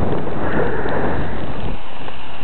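Strong blizzard wind roars steadily against the microphone, a loud, continuous gusting rush with no voices.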